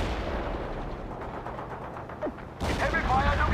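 Battle gunfire from the World in Conflict strategy game rattles in dense bursts with distant booms, getting sharper and louder toward the end, mixed with radio-style voices.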